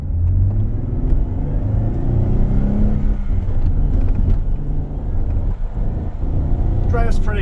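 A lifted 2015 Jeep Wrangler Unlimited with a manual transmission pulls away at half throttle, its engine rumbling steadily and close under a voice, with a brief high whir near the end.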